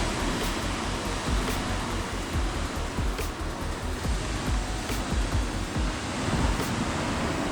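Ocean surf rolls in continuously on a Kerala beach, a broad rushing wash of waves breaking on the shore with periodic swells, loud and close with no voices.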